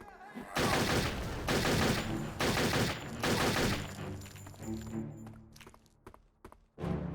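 Rapid bursts of gunfire from the Mag 60 pistol in Turok 3: Shadow of Oblivion, loud and dense, several volleys in quick succession, then tailing into quieter game sounds with a final sharp burst.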